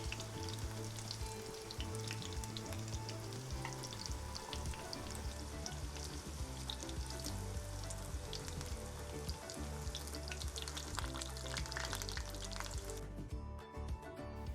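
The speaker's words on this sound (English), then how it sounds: "once the chicken is golden brown, you guys could go ahead and take it out" Chicken fries in a pan with a constant hissing sizzle and scattered crackling pops, steady throughout, with no one speaking.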